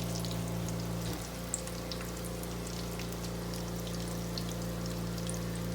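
Potato puff balls deep frying in hot oil, a steady close bubbling hiss with scattered crackles and pops over a constant low hum.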